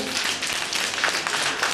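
Many audience members tap out one-finger claps in unison, a bright, steady patter of soft light slaps filling the room without pause.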